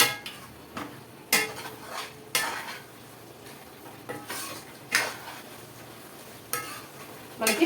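Spicy gongura chicken fry is stirred in a pan. A spoon scrapes and clinks against the metal in separate strokes about a second apart, with a soft sizzle underneath and no one talking.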